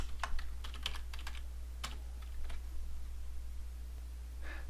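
Keystrokes on a computer keyboard while a street name is entered in Civil 3D software: a quick burst of sharp clicks, a few isolated taps, then a short cluster at the end over a steady low hum.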